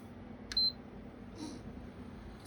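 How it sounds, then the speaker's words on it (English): A short electronic beep from a PS5 console as its power button is held down, a single clear tone near the start over faint room hum. "press and hold the power button for some seconds until 2 beeps"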